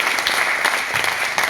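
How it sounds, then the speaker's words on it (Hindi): Dense, steady clapping from an audience at a seminar in Bhilwara, a continuous wash of many hands, loud and close, with no voices over it. "ताली बजा दीजिए आप लोग।"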